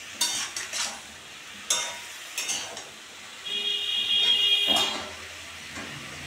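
Katua stalks and a catla fish head are stirred in a pan, a few scraping stirs over a low sizzle, with a thin steady high tone sounding partway through.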